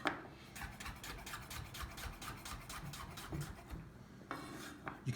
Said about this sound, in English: The pumpkin can now be cut up however you like. I'm going to do probably nice thin slices.